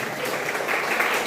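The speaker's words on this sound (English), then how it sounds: "first round of applause then, because he already got the award" An audience at an NJ Super Kings event gives a round of applause for an award. The clapping is short, steady and moderately loud.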